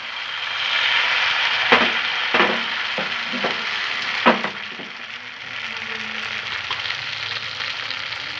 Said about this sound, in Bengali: এখন আমি একে একে সব পিঠেগুলো এইভাবে ভেজে নিচ্ছি।